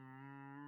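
A person imitates a cow with a steady, sustained low moo, one unbroken droning call, close and fairly quiet, with no other sound around it.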